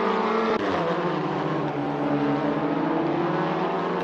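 Touring race cars from the 2019 WTCR Race of France, driven in Assetto Corsa with Hyundai and Audi entries, roar continuously at close range with steady engine drone and a brief gear-shift dip.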